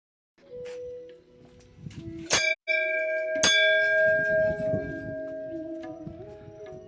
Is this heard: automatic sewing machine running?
no